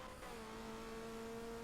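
Race cars in a V8 Supercars sim race at Monza run together as a pack, a steady engine drone with sustained tonal whine holding level throughout, fairly close and continuous with no pauses.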